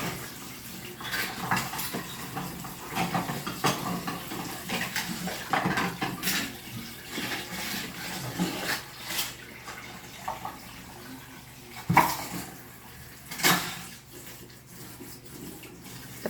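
Dishes, plates and cutlery being washed in a kitchen sink with running water, with scattered clinks and clatters of pots and utensils at close range, fairly quiet between knocks.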